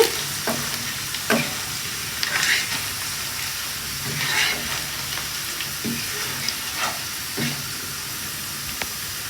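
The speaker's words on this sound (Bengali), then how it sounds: "পেঁয়াজগুলা বাদামি রং করে আগে ভেজে নিচ্ছি" Onions frying in a pan with salt until browned, a steady close sizzle broken by several sharp scraping stirs of the spatula, with no talking.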